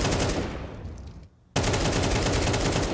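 Rapid gunfire from a Counter-Strike pro match between HEROIC and BIG, loud and continuous, with a brief near-silent gap at the midpoint before the dense shooting resumes.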